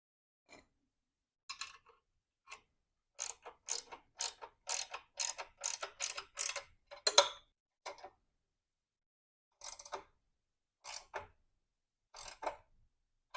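Ratchet tightening the exhaust pipe mount bolts on a 1989 Harley-Davidson Evo Softail, quick bursts of crisp clicking strokes separated by pauses, close and clear against a quiet background.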